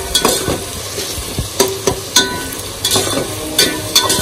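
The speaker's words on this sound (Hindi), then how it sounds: "कम से कम इसको 2 से 3 मिनट हमको फ्राई करना है प्याज को, हल्का सा गोल्डन ब्राउन होना चाहिए" Onions frying in a pan toward golden brown for egg biryani, a steady loud sizzle broken by repeated sharp scrapes and taps of a spoon as they are stirred.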